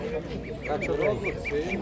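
Ducks quack in a steady repeated series over the murmur of people talking nearby.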